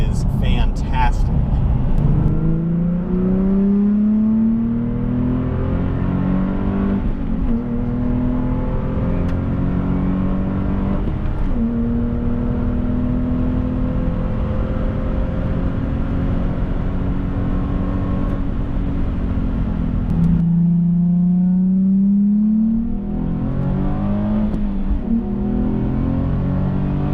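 Nissan 370Z engine revving hard as the throttle is punched, with rising and falling harmonic sweeps repeating over about 27 seconds, loud and close, with a voice talking over it.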